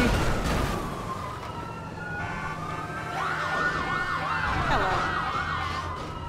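Police siren in GTA V, a sustained wail that shifts into rapid, warbling yelps midway, loud and close over a low rumble of traffic.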